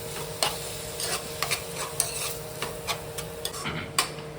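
Spinach and tomato curry stirred in a pan, a soft continuous sizzle beneath repeated scraping and tapping strokes of a spoon against the pan at an uneven rhythm, close and fairly quiet, with no voices.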